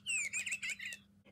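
Walker Squawker animatronic bird toy chirping, a quick burst of several bright electronic tweets over a low steady hum, close and clear with no talking.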